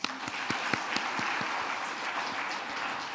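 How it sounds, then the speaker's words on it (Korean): A church congregation at a New Year's Eve worship service claps together in dense, sustained applause, a crowd of hands filling the room evenly for a few seconds. "박수합시다"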